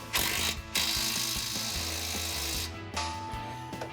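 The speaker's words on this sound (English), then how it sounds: "I can get in there with my impact and tighten it" An impact wrench rattles loudly and close up as it tightens a nut on a heavy-duty front bumper of a Jeep Gladiator JT, running in two long bursts with a short pause between them.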